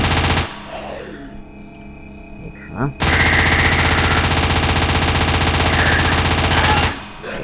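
Sustained loud automatic gunfire in the horror video game Living Nightmares, with a quieter stretch of scattered shots and game noise first, then a dense unbroken burst of rapid fire lasting several seconds before cutting off.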